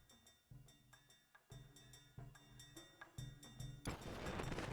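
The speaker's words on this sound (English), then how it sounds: "It's those fireworks" Fireworks in the online role-playing game Final Fantasy XI go off as a series of muffled thumps and pops in an uneven rhythm, ending in a bright crackling burst that fills the last second.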